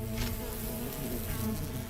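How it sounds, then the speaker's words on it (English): A bee flies past in The Hundred Line video game, a loud, continuous buzzing drone that stays close and steady throughout. "one of the bees flew over to me"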